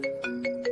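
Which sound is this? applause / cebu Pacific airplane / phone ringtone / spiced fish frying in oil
phone ringtone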